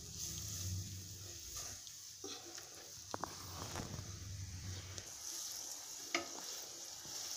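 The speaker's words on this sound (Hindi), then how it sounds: "ये जो कॉर्नफ्लोर है इसको थोड़ा थोड़ा करके डालना चाहिए और ऐसे ही चलाते रहेंगे।" Chicken Manchurian hot soup stirred in a pot while cornflour is added a little at a time, giving a soft continuous simmering hiss with faint scraping and light knocks of the spoon, close and fairly quiet.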